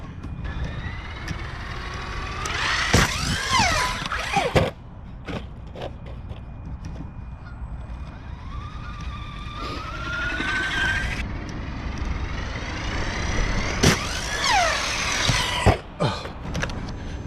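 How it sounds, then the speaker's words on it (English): The electric motor of a Typhon truggy RC car is blipped several times, each burst a rising and falling whine with mechanical clicks and rattles between the bursts. "I'm just blipping the throttle here"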